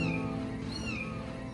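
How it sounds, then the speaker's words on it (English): Kittens in a box mew in thin, rising and falling cries, a couple of calls overlapping close by over a low background murmur. "It's a box of kittens."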